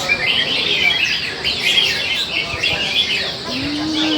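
Many caged crested birds chirp and tweet continuously in a dense, overlapping chorus, with a low tone sliding in near the end.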